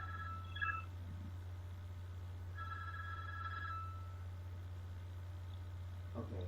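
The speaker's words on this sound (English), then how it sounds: "The phone happened to be ringing right now." A telephone rings indoors during a conversation, a few faint electronic trilling rings over a steady low hum, with no talking over it.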